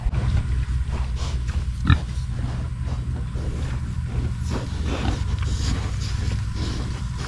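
Pigs grunt in a rhythmic series of low, short snorts close by in a pen, with wind buffeting the microphone throughout.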